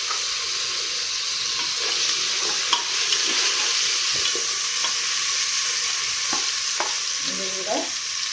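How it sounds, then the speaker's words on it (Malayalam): Chopped tomatoes fry with ginger-garlic paste for a Tamil Nadu style mushroom biryani, a loud steady sizzle with scattered stirring scrapes and clinks of the spoon, close and continuous with no talking. "അതിൻ്റെ കൂടെ ഞാൻ തക്കാളി ഇട്ട് കൊടുക്കാം"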